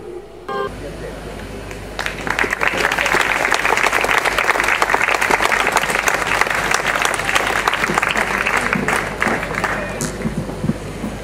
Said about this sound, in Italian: direi di fare veramente un grande applauso